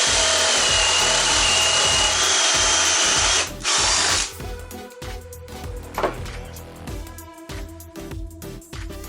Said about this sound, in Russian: Перьевым сверлом на 40 мм сделал отверстие.